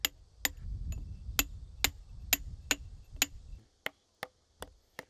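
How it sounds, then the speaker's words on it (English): A hammer strikes stone again and again during stone carving on Jeju Island, sharp dry cracks at a steady rhythm, about a dozen blows, close and clear over a low rumble that falls away partway through. "He has to use the hammer hundreds of times a day."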